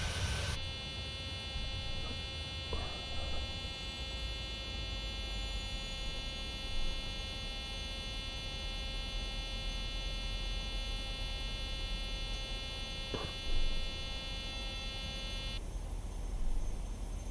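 Steady electronic warning alarm in a PMDG 737-700 cockpit in Microsoft Flight Simulator 2020, a sustained multi-tone buzz held for about fifteen seconds over a low hum, then cutting off abruptly, with no talking.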